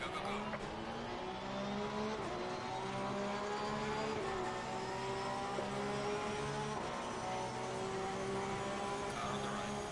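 Race car engines howl and shift in online sim racing at the Nürburgring, several cars droning and revving close together in a continuous steady roar without letup.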